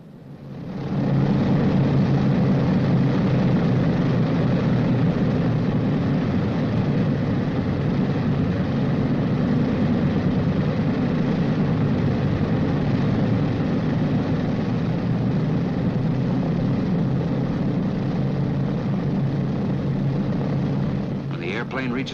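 Boeing B-29 bomber piston engines running steadily as the aircraft taxis toward the runway, a loud, continuous droning roar that holds level throughout, with a voice talking over it.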